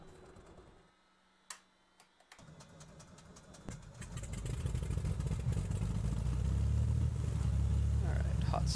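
Propeller aircraft engine starting in the Prepar3D flight simulator: a few cockpit clicks, then the engine cranks, catches and builds into a loud, steady droning rumble close by.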